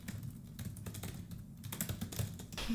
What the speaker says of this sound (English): I'm just typing away here.